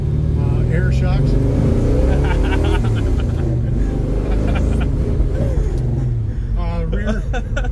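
A 1967 Chevrolet Chevelle SS with a 454 engine idling, a loud steady low rumble throughout, with someone talking continuously over it.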